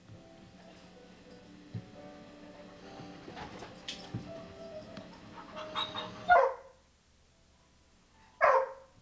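A dog gives two sharp barks close by, separated by a short pause, after quiet shuffling and ticking sounds in a room.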